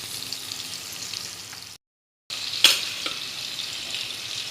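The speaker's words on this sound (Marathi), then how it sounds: "आता हे अमूल बटर टाकते. बघा हे बघा हे थोडंसं तेल पण टाकून घेते मी" Amul butter and oil sizzle in a pan on a gas stove with a steady, soft frying hiss, broken by a short silent gap and a single clink just after it.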